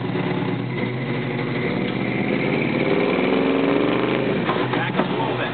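An off-road truck at Badlands Offroad Park straining to keep moving, its engine droning steadily at mid revs with a rough, labouring tone, close and loud throughout.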